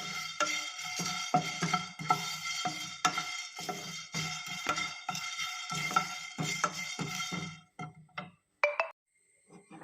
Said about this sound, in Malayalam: അതിൻ്റെ കൂടെ തന്നെ കുറച്ച് കറിവേപ്പില കൂടി ഇട്ട് മൂപ്പിച്ചെടുക്കാം.